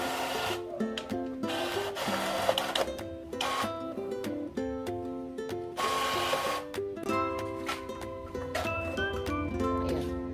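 An Epson L6270 inkjet printer running a short-edge-binding duplex job, giving continuous mechanical whirring, rubbing and clacking with rhythmic feed and carriage passes, steady and close, with no talk.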